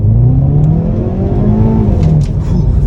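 A 2022 Hyundai Veloster N launches hard from 2,500 RPM on launch control, its loud engine note climbing in pitch as it accelerates with no voices.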